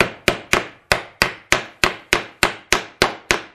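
A hammer drives small plastic dowels through a door hinge into a glass-panel door, about a dozen sharp, evenly spaced blows ringing out loud and close with no talk.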